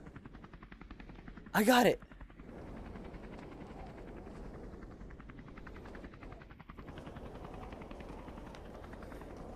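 A helicopter's rotor drones steadily throughout, with a loud sharp burst near the start and a voice shouting excitedly over it.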